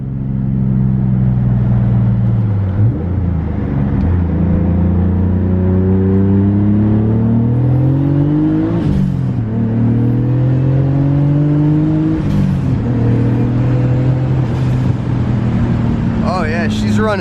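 A turbocharged M50-engined BMW E34 accelerates at full throttle from inside the cabin, its engine note droning and rising in repeated pulls with gear-change dips, loud and close, while someone talks over it.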